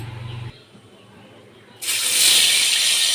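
Nigella seeds drop into hot oil in a pan and set off a sudden, bright sizzle that starts after a short, quieter pause and keeps going steadily and loudly, close by.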